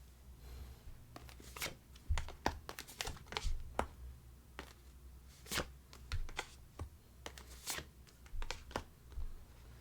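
Tarot cards being shuffled and drawn at a table, giving a quiet, irregular series of crisp flicks, snaps and riffles spread across several seconds, with no talk.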